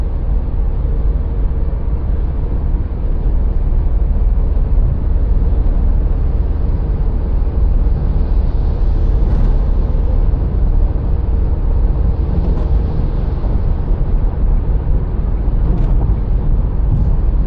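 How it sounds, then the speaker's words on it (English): Inside a Dacia Jogger with a 1.0 TCe ECO-G engine and 6-speed gearbox, a constant low road and engine rumble fills the cabin without pause, and no one talks. "so you can hear the sound of this car as well."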